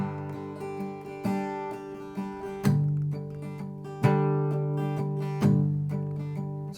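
Acoustic guitar strummed openly with no palm muting, each ringing chord struck in a steady rhythm with sustained, full-bodied decay between strokes, heard up close with no talking.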